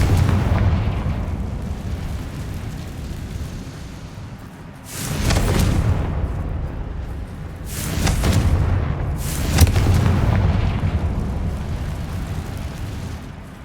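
In Hogwarts Legacy, the Confringo fire spell goes off in a few heavy, booming blasts, each swelling and rumbling out over a low roar of background ambience.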